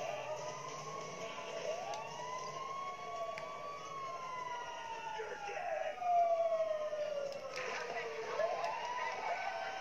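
Fire truck sirens wail in Grand Theft Auto V, with long rising and falling tones sweeping over steady traffic and engine rumble, at moderate distance and swelling briefly louder partway through.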